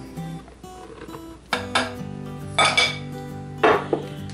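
A spoon knocks and scrapes around a bowl while cookie batter is mixed, several distinct clinking strokes at a close, moderate level between quieter stirring.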